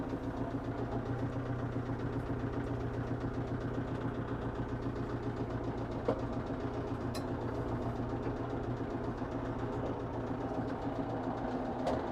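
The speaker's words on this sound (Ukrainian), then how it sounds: "Двигун працює дуже рівно, без нарікань." Kubota L46 four-cylinder tractor with a rotary tiller, its diesel engine running at a steady, even idle throughout, with a constant low rumble and no voices.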